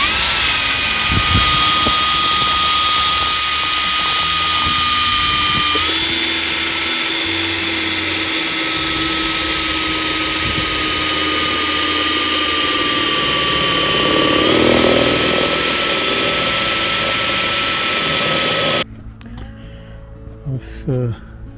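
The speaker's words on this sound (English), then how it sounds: "So I've got to drill these out," A power drill runs almost continuously, drilling holes in a metal stand while a greenhouse is secured onto it, a loud steady whine with pitch shifts as the load changes, then stopping near the end.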